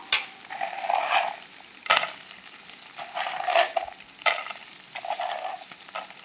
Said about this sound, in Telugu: పల్లీలు వేస్తున్నాను ఒకసారి తిప్పుకుందాము